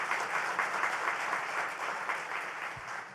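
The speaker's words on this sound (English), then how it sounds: "Let's give the band a big round of applause." Audience applauding a band at a Buffalo economic development announcement, dense sustained clapping throughout, moderately loud and fairly even, fading slightly at the end.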